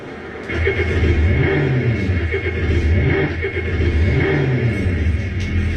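Car engine in a staged scene from an African comedy play, rising through repeated revs in loud steady waves after a quiet opening, running continuously for several seconds with no talk.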